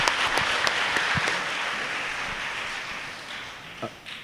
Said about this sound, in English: let's give another round of applause to Father Clarence Devadas